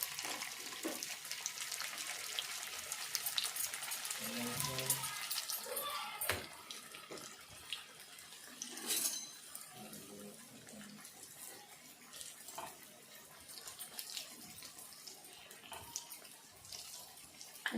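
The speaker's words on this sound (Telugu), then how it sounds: "నూనె వేడైంది చూసుకొని ఇప్పుడైతే ఈ గారె అయితే ఈ నూనెలో వేసుకోవాలి." Potato and poha garelu dropped into hot peanut oil, a bright, dense frying hiss that swells and settles with bubbling crackles, close and continuous.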